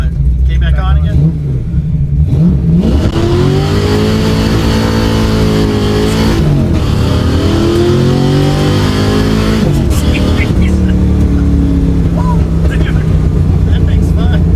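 A Ford small block V8 idles and revs steadily, loud and close, with pitch rising and falling through several throttle blips while people talk over it.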